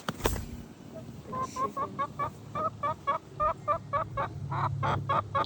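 A live chicken clucks in a steady, repeated rhythm of short calls, moderately close, after an initial bump, with faint background noise throughout.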